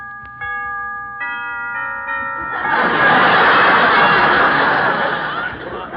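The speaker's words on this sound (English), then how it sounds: "I rang the doorbell." A two-tone doorbell chime rings out clearly in a radio drama scene at a creepy old house on 92nd Street, followed by a swell of broad rustling noise or laughter.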